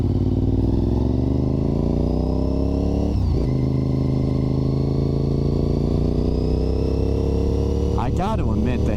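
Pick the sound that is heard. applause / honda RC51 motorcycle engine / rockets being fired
honda RC51 motorcycle engine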